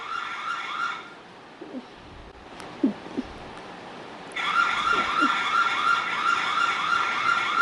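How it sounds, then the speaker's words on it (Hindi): A security camera alarm's loud police-style electronic siren wails with rapid repeating warbles, starting briefly, cutting out, then resuming strongly; faint clicks and thumps occur in the gap. "आप इसको पुलिस के सायरन की तरह बजा सकते हैं। देखिए आवाज़ आ रही है आपको।"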